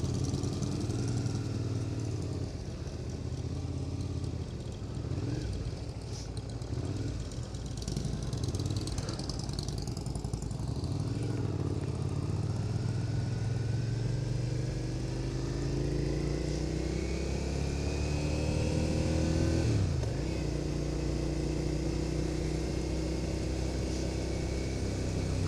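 Several motorcycles, a mix of 125s, cruisers and sports bikes, idling together at a midweek bike meetup, a continuous rumbling drone with engines rising and falling in pitch as they rev, close and fairly loud with no clear talk.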